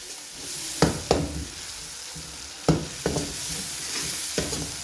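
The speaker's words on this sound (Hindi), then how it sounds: "मैंने ऑयल में सीख कबाब को फ्राई कर लूँगी तकरीबन 1 से 2 मिनट के लिए" Seekh kebabs shallow frying in oil in a pan, a steady close sizzle broken by a few sharp utensil knocks and scrapes as the kebabs are turned.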